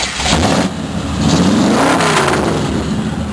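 A car engine with loud mufflers fires up and revs, a close, heavy rumbling roar that swells and settles over a few seconds, heard alone without talk.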